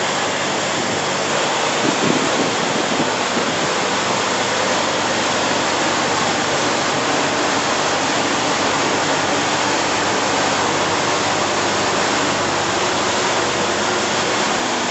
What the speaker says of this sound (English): So right now the machine is starting filling up.